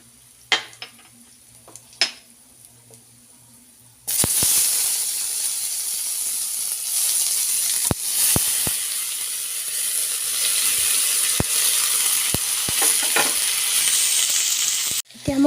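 Tomatoes hit hot mustard oil with whole five-spice seeds and broken dried red chilli, bursting into a loud, steady sizzle that runs on alone, with a few sharp clinks of a spoon stirring the pan.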